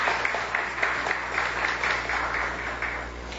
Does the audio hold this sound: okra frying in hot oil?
no